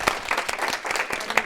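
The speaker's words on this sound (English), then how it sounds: "We should get Antoinette to get a round of applause" An audience claps for a speaker at an organizational agility talk, a short burst of dense, scattered applause that sounds moderately close.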